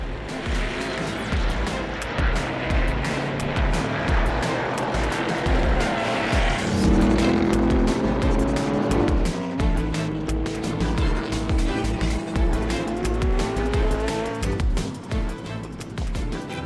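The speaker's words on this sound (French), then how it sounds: "Lutte serrée entre les deux Ford GT40, la numéro 218 de Christopher Stahl et la 214 de Livingston Price" Two Ford GT40 race cars on the Tour Auto 2013 run close together, engines roaring loud and near with rising and falling pitch as they pass, and tires squealing briefly.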